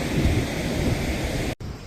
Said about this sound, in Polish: no i się rozpadało